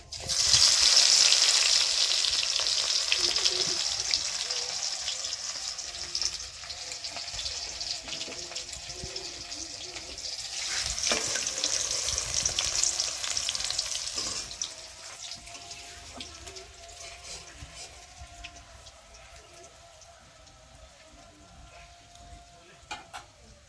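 Garlic sizzling in hot tempering oil for a mixed greens fry, a steady bright hiss that is loudest at the start and fades gradually, with brief scraping stirs along the way.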